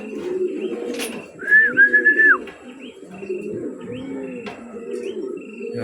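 Racing pigeons coo in low, repeated throaty rolls close by, joined midway by a brief high whistle and a couple of sharp knocks.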